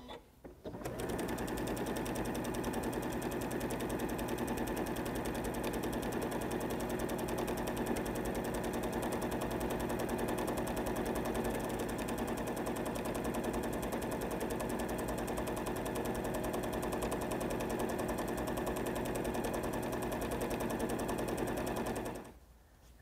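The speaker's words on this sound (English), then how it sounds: "just sew these right sides together along these 4 long sides on the front and the back of the" A sewing machine stitches placemat seams along the long sides, a loud continuous rapid mechanical whir that runs nearly the whole time without pause, then stops abruptly at the end, with no talking.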